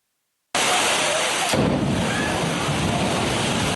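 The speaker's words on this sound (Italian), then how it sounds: "Vento e pioggia a Palermo" Wind and rain from a storm in Palermo roar loudly as a steady broadband rush, with a sharper gust or crack about a second in, continuing without any speech.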